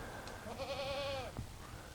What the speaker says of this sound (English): All we got left behind me are the goats that's going to be loaded up in the trailer.